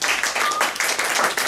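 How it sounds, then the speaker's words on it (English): A warm round of applause from the audience at a gerontology grand rounds talk, dense steady clapping filling the short moment with a faint voice underneath. "So please give him a warm round of applause"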